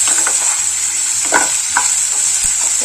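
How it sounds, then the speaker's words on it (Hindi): Okra dusted with turmeric powder is stir-fried in a pan over a high flame, giving a steady close sizzle with repeated scraping strokes of a spatula against the metal. "इसे हाई फ्लेम पर इस प्रकार से चलाते हुए 5 मिनट पका लेना है"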